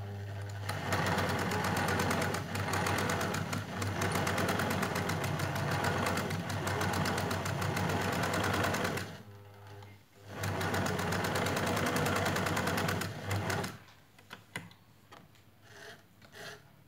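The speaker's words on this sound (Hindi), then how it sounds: "इस तरह इधर से सी के दूसरी साइड से भी सी लूंगी।" A sewing machine stitching a cotton face mask, a fast steady mechanical whirr with a constant low hum, briefly stopping and restarting before ending.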